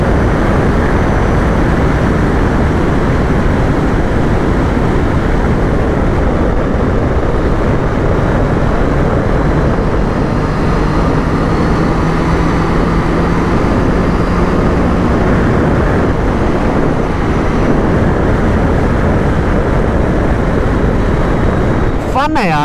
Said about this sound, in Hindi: फिर से एक बार खींचते हैं बाइक को थोड़ा सा